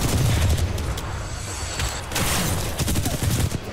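Rapid bursts of enemy gunfire in the shooter game Titanfall 2, dense overlapping shots and mechanical clatter, loud and close, with brief lulls between volleys.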